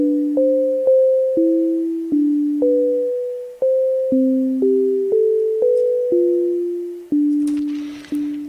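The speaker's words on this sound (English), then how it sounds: "it sounds a lot more interesting now that the rhythm changes" Generative synth melody programmed in Sonic Pi, clean plucky tones stepping between a few pitches, each note decaying quickly, with an irregular, shifting rhythm and a short noisy burst near the end.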